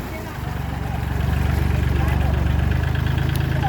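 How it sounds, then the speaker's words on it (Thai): A tractor engine idles in a flooded rice paddy with a steady, low rhythmic chugging, growing slightly louder and holding close and constant throughout. "พามาเบิ่งรถไถครับพี่น้อง"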